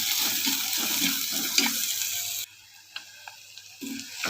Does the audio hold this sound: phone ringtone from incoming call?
no